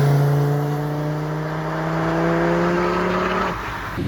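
1995 Audi RS2 race car at Simola Hillclimb, a loud steady engine note held under acceleration for several seconds with slowly rising pitch, then a sudden shift in tone near the end.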